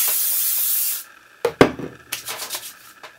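Hairspray hisses from an aerosol can onto hands while short, fine hair is styled into a faux hawk. One loud, close burst lasting about a second stops abruptly and gives way to soft rubbing and handling sounds.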